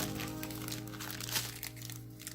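Paper envelopes crinkle and crunch as they are handled up close, a steady rustling that runs throughout with a slightly sharper crackle near the middle.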